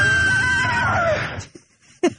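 Harsh, distorted demonic yelling on an old recording mixed with loud crying, a sustained screaming wail that drops away after about a second and a half, leaving a few brief faint bursts.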